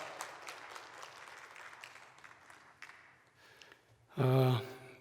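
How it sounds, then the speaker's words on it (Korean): A Korean church congregation applauds during a worship service, clapping that fades over several seconds before a loud voice cuts in at the end. "크게 박수해 주시면 감사하겠습니다"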